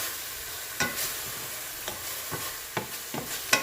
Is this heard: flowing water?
no